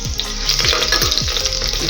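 Green chillies hitting hot oil with cumin seeds in a pressure cooker for masala rice, giving a loud, dense, steady sizzle with a few soft stirring scrapes throughout.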